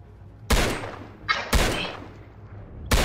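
A newly acquired gun fires in the video game Impulse, with three loud, close single shots spaced about a second apart and a faint electronic effect between them.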